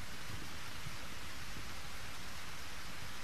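Heavy rain pours down steadily in the video game Eternal Sonata, a dense continuous hiss with no breaks and no voices.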